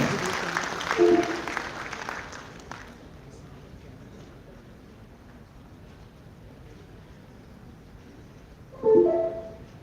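An audience at a dental council oration applauds a speaker. The clapping is moderately loud at first and fades out within about three seconds. A quiet stretch follows, and a voice begins near the end.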